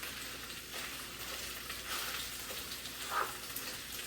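Rice sizzles steadily in a hot hibachi pan as it is stirred, a continuous close frying hiss with soft scraping, and no voices.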